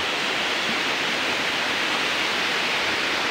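Small falls at a remote rural spot in the Philippines, heard as a steady broadband rush of falling water, continuous and fairly close with no change across the span, no voices over it.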